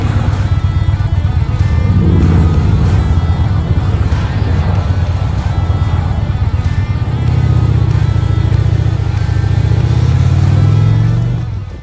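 A motorcycle cruises steadily down the Florida Keys toward Key West, its engine a loud, continuous drone with wind rush over about twelve seconds before easing off at the end.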